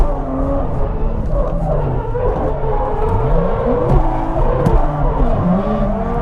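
Engines rev hard as drift cars launch at the start of a competition run in Japan. The roar is loud and continuous, with rising and falling pitch sweeps and a wash of crowd and track noise underneath.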